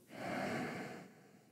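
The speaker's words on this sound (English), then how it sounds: "Breathing." A single deep breath during a hatha yoga pose with legs lifted off the mat, a soft close airy exhale swelling and fading over about a second, with no talk.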